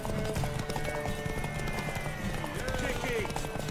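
Horse hooves clip-clop at a gallop in The Witcher 3 during a race to a tower, steady and fairly close, with a voice and music-like tones over the hoofbeats.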